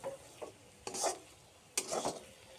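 A spoon stirring cooked pea-leaf ghonto in a pan, with a few soft scraping strokes and light metal clinks, close but quiet, no talk.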